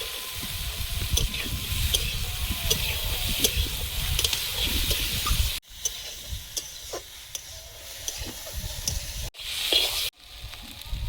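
Water poured into a hot pan of potatoes hisses and sizzles loudly at first, then settles into a softer bubbling sizzle with small clinks, broken by brief pauses.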